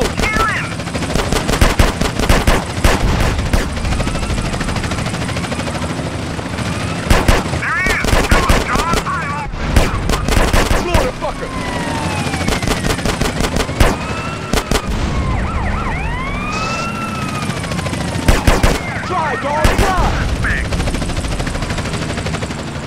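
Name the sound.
gunfire in the video game GTA San Andreas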